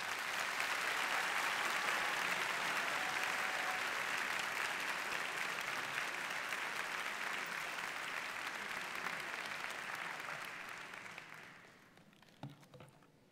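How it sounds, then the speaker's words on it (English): Audience at a summer college graduation ceremony breaks into sustained applause, a broad, even wash of many hands clapping for about eleven seconds before fading away, with a few isolated claps at the end. "give him another round of applause"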